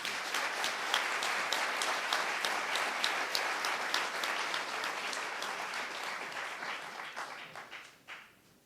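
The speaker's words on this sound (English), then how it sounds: "please join me in giving one more round of applause for Rick Wolff." Sustained applause from an audience filling a hall after a speaker's introduction at an evening lecture event, dense steady clapping that tapers off toward the end.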